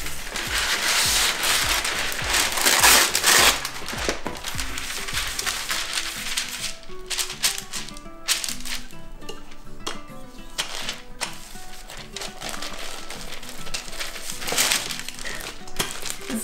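Sesame brittle pressed flat between sheets of parchment paper with a rolling pin, a continuous close crinkling and crackling of paper with scattered sharper snaps throughout.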